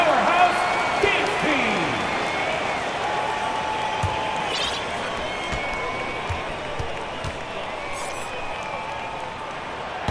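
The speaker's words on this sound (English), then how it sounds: "please give a round of applause for your Cavs Powerhouse Dance" An arena crowd applauds the Cavs Powerhouse Dance Team during a basketball game, a broad sustained wash of clapping and cheering heard at a distance, with an announcer's voice and occasional court thumps over it.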